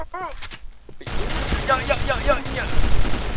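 Rapid bursts of gunfire in the video game Point Blank crackle over a noisy background, with voices talking excitedly over the shooting.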